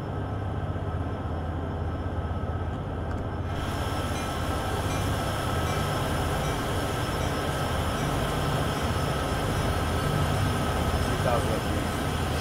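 Freight train wagons rolling in Train Sim World 2 on Sherman Hill, a constant rumbling clatter of wheels and cars that runs unbroken and fairly loud, with a wider hiss joining a few seconds in.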